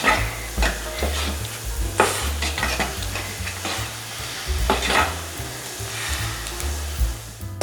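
Thick ragi porridge is stirred in a pot as it comes to a boil, with repeated close scraping strokes over a steady low simmering rumble and no voices.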